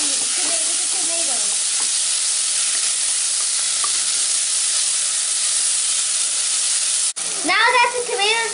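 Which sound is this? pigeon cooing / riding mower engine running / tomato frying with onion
tomato frying with onion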